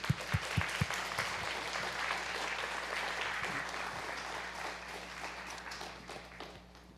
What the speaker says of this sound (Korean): 우리 목사님 모실 때 여러분 박수로 크게 환영해 주시면 좋겠습니다